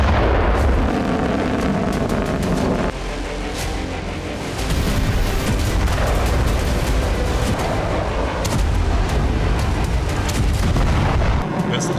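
A loud, sustained roar of a hypersonic missile test launch, the Bolt 1B, with booming rumble and crackling bursts that shift in intensity, and speech mixed in at times.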